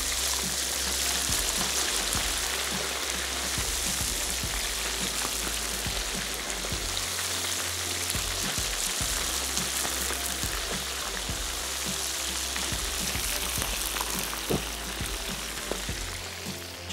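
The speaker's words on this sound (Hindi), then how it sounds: "ये चिकन को आपने इसमें फ्राई कर लेना है।" Chicken fries in very hot oil with the stove switched off, a dense continuous crackling sizzle that stays even and close for the whole stretch, with no talk over it.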